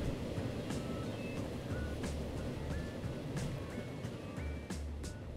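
A simulated passenger train with five wagons rumbles along steadily in the Transport Fever game, a low continuous rolling drone with faint periodic clicks and short tonal beeps over the top.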